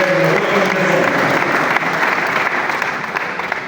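A church congregation applauds loudly and steadily at a 45th-anniversary celebration service, dense continuous clapping filling the room from start to finish with a few sharper claps standing out and no voices above it.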